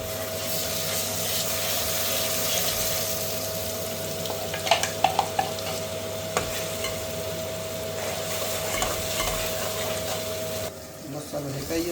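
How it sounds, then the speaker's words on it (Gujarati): Masala spices frying with roasted onions and a little ginger-garlic paste in a pan, a steady close sizzle running throughout with a few sharp clicks of stirring, fading at the very end. "ડુંગળી શેકાઈ ગઈ છે હવે તો એમાં મસાલો નાખી દઈએ"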